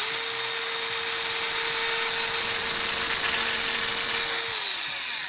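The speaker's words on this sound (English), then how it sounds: "this grinder wheel is actually being ground down" An angle grinder wheel grinding against a lock at the Sea Otter Classic e-bike demo, a steady, loud, high-pitched whine with a sustained tone that holds for several seconds and then fades slightly.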